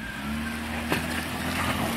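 An off-road vehicle at a Northwest off-road expo drives out of an obstacle on momentum, its engine holding a steady, close drone with one brief bump partway through.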